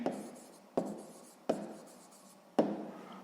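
A pen writing on paper up close, four quick taps or strokes starting each short scratchy burst that fades out, soft and quiet with no talk.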